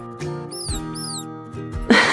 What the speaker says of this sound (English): It's a rat. A little white rat.